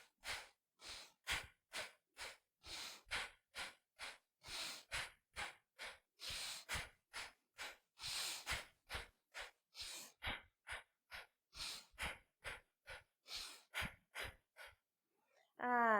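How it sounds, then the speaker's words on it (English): Slow, deep breathing during a grounding yoga exercise, a long series of steady inhales and exhales close to the listener, each breath a soft airy rush, with a brief pause near the end. "So we're going to inhale."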